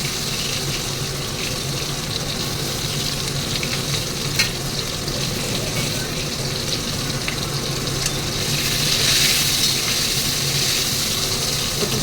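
Potatoes and torn green chili frying in oil for a fish curry, a loud continuous sizzle with stirring, close and even, briefly intensifying toward the end, with no talking.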